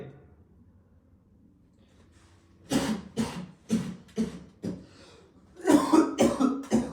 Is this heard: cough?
yes